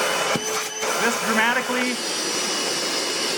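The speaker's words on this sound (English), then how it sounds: "the crevice tool and the floor tool dramatically decrease the suction power" A Milwaukee Gen 2 wet/dry shop vacuum drones loudly and continuously up close, its steady whine shifting briefly in pitch, while someone talks over it.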